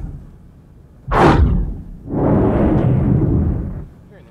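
A loud boom bursts out with a sweeping whoosh, followed by a long deep rumble that holds and then cuts off: a submarine explosion effect for the film Das Boot.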